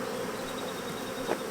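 Honeybees hum in a close, steady drone while a hive is smoked and shaken, with a brief louder swell near the end.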